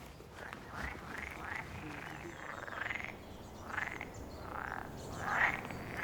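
Frogs croak again and again in a forest near Evreux, giving a run of moderately faint, rasping calls at uneven intervals over soft outdoor background noise.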